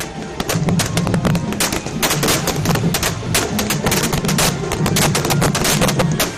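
Firecrackers burst in a village Diwali-style celebration held during the day, loud and dense, crackling in rapid irregular volleys with no break over the whole stretch.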